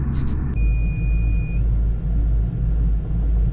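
An old New Holland TM tractor engine idles with a deep, steady diesel rumble and a regular low throb, close and loud, while a brief high whine fades out early on.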